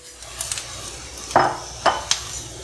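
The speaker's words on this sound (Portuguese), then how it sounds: "Tem que deixar esse arroz dar uma refogadinha" Rice sautéing with translucent onion in a pan over medium heat for a lemon risotto, a soft background sizzle broken by a few sharp scraping stirs of a spoon against the pan, close and alone.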